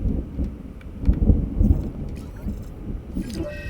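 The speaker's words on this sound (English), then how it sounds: "there's the storm" Thunder rumbles and cracks through steady rain in a video game storm, loud low booms swelling in the middle with rain hiss throughout; a voice talks briefly.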